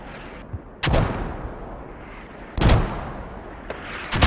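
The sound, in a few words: mortar fire in the video game Squad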